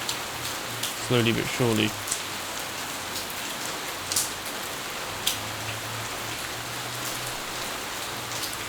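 Rain falling in the video game City 20, a steady hiss of drops on surfaces with a few sharper splats, a voice briefly speaking over it early on.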